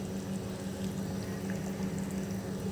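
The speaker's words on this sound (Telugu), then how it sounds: "ఇలా ఉడుకుతుంది చూడండి," Brown rice simmers in a pot of salted water, giving a steady, soft bubbling hiss that stays even and unbroken.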